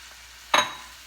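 About eight pre-cooked shrimp drop into a pan of pad Thai with one short, sharp splat and brief sizzle, then the pan settles back to a quiet hum.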